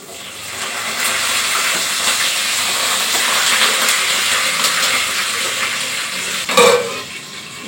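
Green chillies dropped into hot cooking oil in a pan, giving a steady, close, loud sizzling hiss throughout, with one sharper pop near the end.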